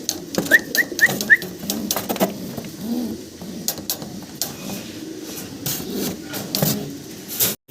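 Fancy pigeons for sale in Bangladesh coo repeatedly up close, their throaty calls mixed with scattered clicks and rustling and brief faint background voices.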